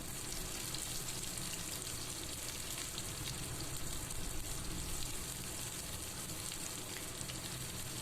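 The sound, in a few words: onion frying in a pan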